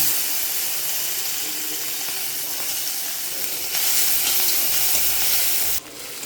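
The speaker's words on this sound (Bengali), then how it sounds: "এবার তেলের মধ্যে দিয়ে দিচ্ছি একটু চিংড়ি মাছ নুন হলুদ দিয়ে মাখানো।" Shrimp coated in salt and turmeric sizzle in hot oil, a steady bright hiss and crackle that jumps louder partway through, then drops off sharply near the end.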